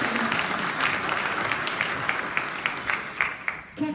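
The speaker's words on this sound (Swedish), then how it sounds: "Applåd." Audience applause fills a hall after a welcome, a steady wash of many hands clapping at close range, with a few louder individual claps near the end.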